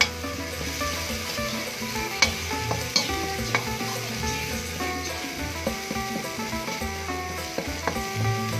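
Garlic and fresh chili stir-fried in a hot pan for a field-crab dish: a steady, close sizzle with repeated scraping stirs and a few sharper knocks of the utensil against the pan, no talking.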